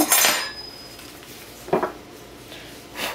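Metal utensils clatter against dishes in a kitchen while a spoon is searched for. Three separate clinking bursts come close by, the first loudest and ringing briefly, the others shorter, with no talking.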